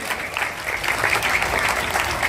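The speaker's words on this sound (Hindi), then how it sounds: "भगवान के धन्यवाद के लिए तालियां जोर से।" Steady applause from an audience at an Independence Day celebration, dense and continuous clapping for the full stretch, fairly close and even in loudness.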